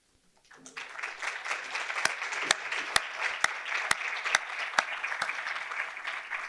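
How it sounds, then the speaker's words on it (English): Staff working in primary care receive a round of applause at a diabetes symposium in East Kentucky, a steady roomful of clapping that starts abruptly and holds loud throughout, with a few sharp individual claps standing out. "I'd like to give you a round of applause."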